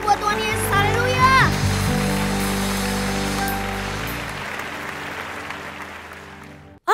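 Clapping from an online children's Sunday school church service, full and continuous at first, then slowly thinning out, mixed with music and a voice, ending abruptly.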